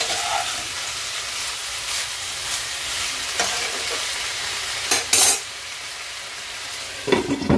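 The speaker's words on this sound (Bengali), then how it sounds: "এবারে গ্যাসটা সিম করে আমি আস্তে আস্তে ভালো করে এটাকে ভাজা করে নেব।" Food fries in a pan over low gas, giving a steady close sizzle with intermittent spatula scrapes and a few sharp clinks of utensil against metal, and no one speaking.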